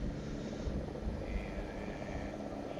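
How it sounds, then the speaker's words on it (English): A Choctaw resupply helicopter flies in within the Arma game SOG Prairie Fire, a steady broadband rotor and engine drone holding at even loudness throughout, with no voices. "I can hear the resupply aircraft coming in"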